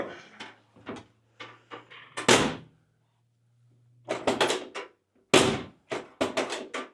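A 1968 Ford Mustang car door clunks open and shut, a few sharp knocks and slams in quick succession with brief pauses between them, close by.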